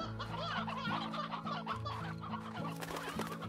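Chickens clucking inside a coop in the video game Slime Rancher, a busy, continuous chorus of overlapping clucks from several hens close by, with no talking and a steady low game-music tone underneath.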